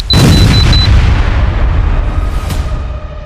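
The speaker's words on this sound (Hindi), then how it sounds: "अचानक फट जाता है" A pager explodes with a loud, booming blast and a sharp initial bang, followed by a long rumbling decay. A brief high beep tone sounds just before and at the onset.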